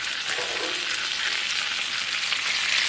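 Fried potatoes sizzle loudly in a hot pan while being stirred, a steady close crackle with no talk.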